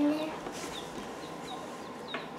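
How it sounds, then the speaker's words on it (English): Soft high peeps and cheeps from baby chicks in a brooder with wood shavings, scattered and fairly faint, amid quiet rustling background noise. "Let's see the chickens."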